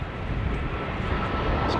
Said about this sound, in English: I hear a plane coming.